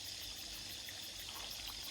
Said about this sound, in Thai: อันนี้เป็นวิวน้ำตกนะจ๊ะ